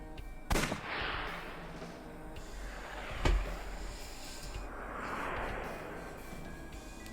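Pistol shots fired with recovered bullets in the video game AI: The Somnium Files: two sharp, loud reports about three seconds apart, each followed by a swelling whooshing tail, with no voices.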